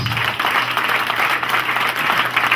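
A church congregation claps hands for Jesus in a dense, sustained burst of applause that fills the room, steady and fairly loud with no pause.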